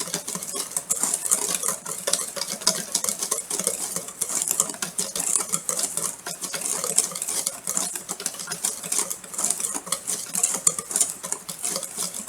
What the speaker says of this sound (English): Get a second whisk. Just mix this up.